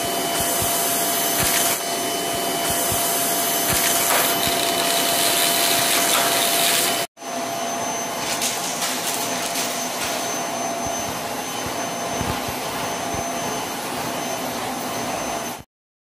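A Bissell Zing canister vacuum cleaner runs close and loud with a steady roaring whine and airflow hiss, briefly cutting out midway before resuming, with faint rubbing and knocking of the nozzle on the floor and no talk.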